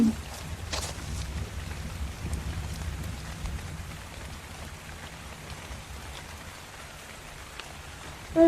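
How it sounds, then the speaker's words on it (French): Steady rain falls in the video game ARK: Survival Evolved, a dense continuous hiss with low rumbling undertones that eases slightly toward the end, with no voices. "la pluie va s'arrêter, je pense"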